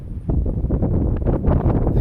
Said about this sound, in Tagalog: Sa sobrang lakas ng hangin guys.